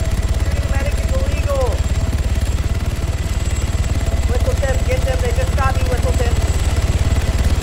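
Helicopter in the video game Arma 3, a steady loud rotor chop pulsing through the whole stretch, with voices talking over it.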